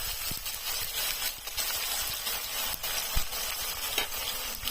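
Onion and garlic paste sizzling in hot oil in a pan for duck curry, a steady close hiss throughout with a few soft clicks and stirring taps.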